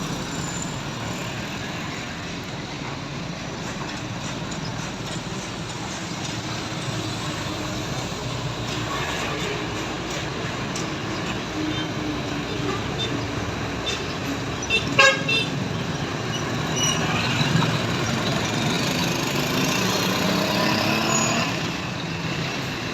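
A bus in Aceh roars past on a busy road and sounds its horn in a loud toot partway through, amid constant heavy traffic noise from other passing vehicles.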